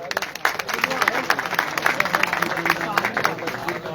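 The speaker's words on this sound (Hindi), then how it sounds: "भरपूर तालियां जी" Applause rises at a Rasm-e-Ustadi Shagirdi ceremony, a crowd clapping in a brisk, uneven patter of sharp hand claps, close and steady, mixed with voices in the background.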